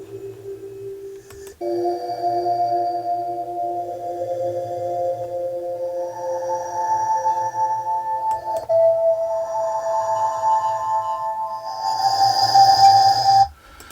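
Kalimba recording time-stretched 8.04 times with Paul Stretch, turned into a slow, continuous ethereal drone of sustained tones with breathy hiss, swelling gradually and brightening toward the end.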